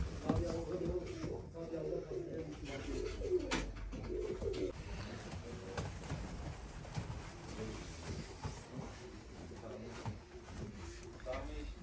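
Pigeons, red Rostov breed, coo softly and repeatedly in the background of a loft, with rustling and faint voices mixed in.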